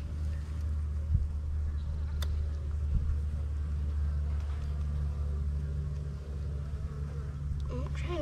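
Bees buzz in a low, steady drone around a valve box, faint and continuous throughout with a few brief sharper sounds mixed in.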